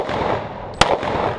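A single loud, sharp shot from a Sig Sauer 1911 pistol at an IDPA shooting competition, cracking close up over steady outdoor background noise.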